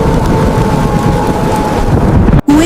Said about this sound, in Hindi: हवा तूफान की तरह चलने लगती है।